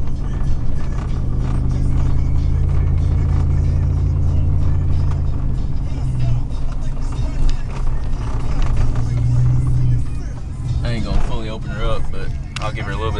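A 2000 Chevrolet Silverado with the 4.8 engine rumbles close and steady, swelling in two short revs, with a voice speaking briefly near the end.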